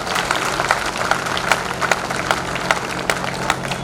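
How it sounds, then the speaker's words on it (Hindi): An audience at a Dr. Ambedkar Jayanti celebration claps loudly in a sustained, dense round of applause with distinct sharp claps standing out, and no voices over it. "एक बार जोरदार तालियां"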